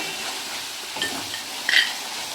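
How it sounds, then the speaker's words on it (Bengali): Garlic frying in oil for a Kolkata-style pabda fish curry gives a continuous close sizzle, with a brief clatter of a utensil near the end. "এই রসুনটা ভাজা ভাজা হয়েছে"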